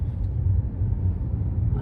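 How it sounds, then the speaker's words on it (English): A car drives over a rough road, giving a steady, close low-pitched rumble and dull thumps of the tires hitting bumps and debris, heard from inside the cabin with no talking. "It's just a very low pitch, you know, thump when you hit stuff, and stuff in the road"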